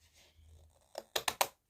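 Scissors cut through card stock in a few quick snips, a faint rustle followed by three sharp, close clipping bursts in a quiet room.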